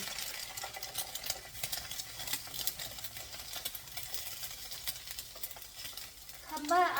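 Quiet, steady sizzling of an egg frying in a thin coat of oil in a pan, a soft continuous crackle with no voices.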